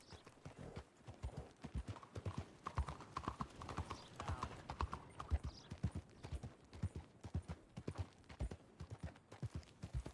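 In a video game at Blackwater dock, a horse's hooves clip-clop in a steady, fairly quick rhythm of sharp knocks for the whole stretch, close and moderately loud.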